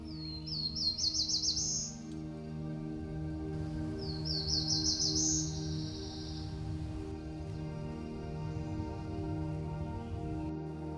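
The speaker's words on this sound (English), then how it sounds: "A key to catching these birds is using playback. So we try to mimic the call or song that the territorial bird that we're trying to capture comes in and sings." A territorial songbird at Hubbard Brook Experimental Forest sings during playback for capture, with two bright descending trilled phrases a few seconds apart and a third fainter one over a steady low hum.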